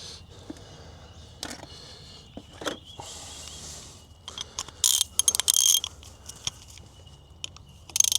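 A ratchet cranks over the engine of a Ferguson tractor abandoned since 1971, giving quick clicking pawl rattles in short bursts. The clicks are close and moderately loud, with louder mechanical clatter in the middle and quiet gaps between strokes.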